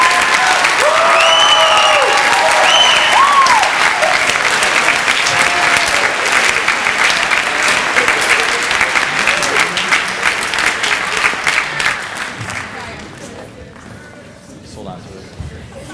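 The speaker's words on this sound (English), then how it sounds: "Let's give a big round of applause for our first year letterman" Loud sustained audience applause at a school spring orchestra concert, with cheering voices over it, tapering off toward the end.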